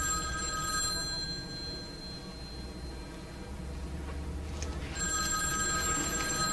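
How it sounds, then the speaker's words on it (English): An old-style telephone bell rings in a room, two ringing bursts separated by a pause, moderately loud over a low background hum. "Aren't you gonna answer the phone?"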